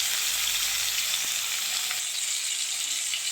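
Tomato and four slit green chillies hit hot oil with ginger paste, giving a loud, steady, close sizzle that runs unbroken throughout with no voices.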